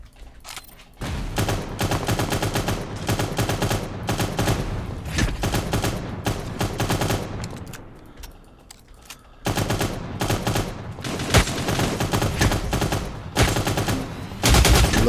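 Heavy artillery and machine-gun fire roar in the shooter video game Cyber Hunter, dense rapid bursts hammering almost continuously, broken by a short lull before the loud barrage resumes.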